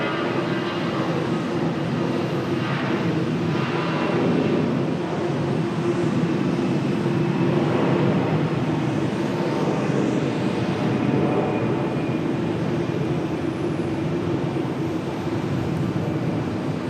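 Etihad Boeing 787 Dreamliner jet departing for Abu Dhabi, a steady, loud, broad engine roar that holds level and unbroken throughout with no talk over it.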